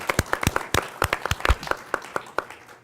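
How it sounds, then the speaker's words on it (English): An audience at a leadership event claps for honorees taking a bow, individual hand claps sharp and distinct, scattered and irregular, thinning out toward the end. "round of applause."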